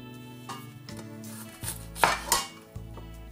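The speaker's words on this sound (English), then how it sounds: "Next is to cut the vegetables." Vegetables are chopped on a board with a knife for a chicken and potato dish, giving a few sharp, close knocks with clatter and scraping in between, and no talking.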